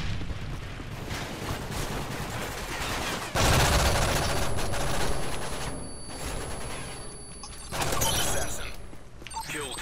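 MP7 submachine gun fire in Modern Warfare 3, rapid bursts of automatic shots mixed with other gunfire and explosions, with louder surges partway through and near the end, while players talk in the background.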